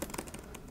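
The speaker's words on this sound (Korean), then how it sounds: "키 누르는 키 압력이라고 할까요? 그런 게좀 있어서 누르는 맛이 있습니다." Keys pressed on a Samsung Notebook 9 laptop keyboard (NT900X5N), a quick close run of soft, light clicks tapped in an uneven rhythm.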